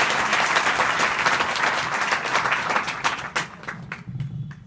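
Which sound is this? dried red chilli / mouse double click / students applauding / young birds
students applauding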